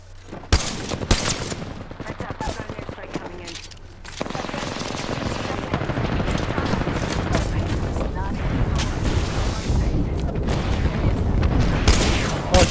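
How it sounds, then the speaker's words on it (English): Airstrike explosions and gunfire in the Apex Legends video game, a dense, loud barrage of booms and rapid shots that builds into a continuous roar, with voices in the mix. "Heads up, I've got an airstrike coming in."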